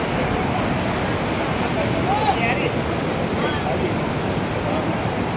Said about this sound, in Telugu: ఇదంతా గంగా నది ప్రవాహక ప్రాంతం.